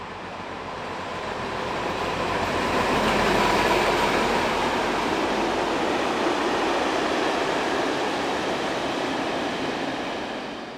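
Locomotive 742-410 hauls a train past Prague Liben station in Czechia, a loud rolling rumble of wheels and wagons swelling and then easing off as it passes, with no voices.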